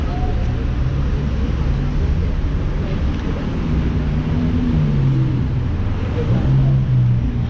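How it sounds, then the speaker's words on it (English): Dense rush hour road traffic rumbles steadily on a street beside a narrow sidewalk, a continuous loud wash of engines and tyres with passing vehicles and some wind buffeting the microphone. "Wow, look at the traffic."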